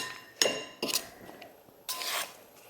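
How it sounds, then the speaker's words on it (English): Spoon scraping and clinking against a bowl while sugar is stirred into banana bread batter, three short bursts of rubbing strokes separated by pauses, close and fairly loud. "Okay, so I mixed in the sugar."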